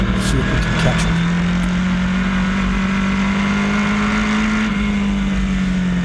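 Race car engine holding a steady drone on a short track during a race, with a continuous near, loud tone and no talking.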